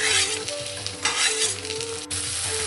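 Ginger, garlic and coriander stalks sizzle in a hot pan, a loud steady frying hiss with scraping stirs and small clinks throughout.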